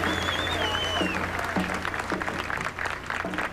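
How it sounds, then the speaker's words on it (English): Scattered ripples of applause from a crowd at a state funeral ceremony in Washington, D.C., honoring military service members taking their places, moderately distant with a faint tonal sound and a commentator's voice over it. "there are ripples of applause for the various members of military services who move into their places"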